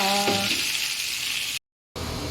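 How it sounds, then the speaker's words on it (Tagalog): Hot oil in a pan for sautéing gives off a loud, steady broadband sizzle that holds evenly, cuts out abruptly for a moment, then resumes. "Ayan lang, magigisa na tayo ha"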